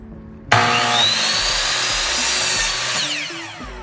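A Makita 40V cordless 8 1/2-inch miter saw spins up with a loud rising whine, runs steadily at full speed for a few seconds, then its brake engages and the pitch drops quickly into quiet.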